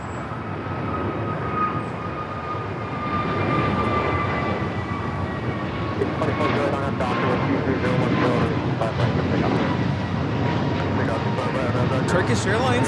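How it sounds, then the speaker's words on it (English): Turkish Airlines Boeing 777-300ER jet taking off from LAX for Istanbul, a loud sustained engine roar with a whining tone that swells after a few seconds, mixed with faint clicks. "Turkish Airlines Flight 180 taking off to Istanbul on the 777-300ER."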